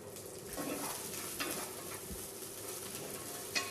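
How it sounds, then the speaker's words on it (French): Shallots sweat in a generous splash of olive oil in a casserole pot, giving a steady close sizzle broken by a few soft stirring scrapes and a sharper clink near the end. "nous ajoutons les échalotes pour les faire suer"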